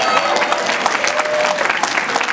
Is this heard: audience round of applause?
yes